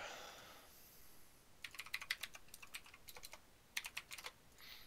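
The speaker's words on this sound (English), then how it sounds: "So many extra letters I hit on the keyboard" Quick bursts of keystrokes clatter on a computer keyboard while a word is typed during an online drawing game, light irregular clicks in clusters after a brief pause, close and fairly quiet.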